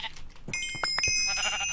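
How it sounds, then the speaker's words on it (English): Sheep bleating in Minecraft (FTB modpack), several short game-sound bleats in quick succession over a steady background, fairly close and clear. "Hey, sheep."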